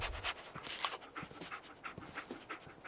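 A dog pants in quick, breathy, steady rhythm in the Fallout 4 video game, close and soft with no talking over it.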